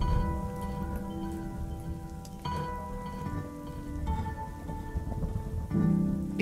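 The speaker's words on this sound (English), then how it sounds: "So we need to create that raindrop sound." Rain sound effect with dense pattering raindrops falling steadily, loud and close, with a low rumble underneath and no voices.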